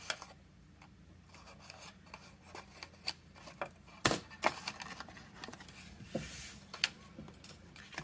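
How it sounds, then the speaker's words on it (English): Small scissors snip paper wedges off a decorated paper box, giving a series of quiet, sharp clicks and snips at irregular intervals, with a louder cluster in the middle. "we're going to take our little scissors here and we're going to snip off the wedges here"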